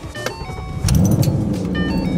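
Ford Mustang starting up in a small cabin: a short crank and click, then the engine catches with a loud, steady low rumble that settles into an even idle, heard up close with no talking.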